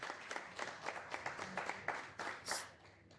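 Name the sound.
audience applause for musicians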